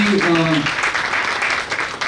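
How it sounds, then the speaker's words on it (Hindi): Audience applauding after a performance at a musicians' felicitation event, a short burst of dense clapping with a voice heard over its start. "जोरदार तालियां"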